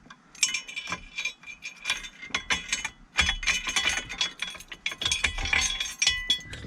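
A Lok-Itt P250 steering column lock is taken off a TBSS, with repeated metallic clinks, rattles and scraping clacks of parts sliding apart, close and irregular, with short quiet gaps between bursts.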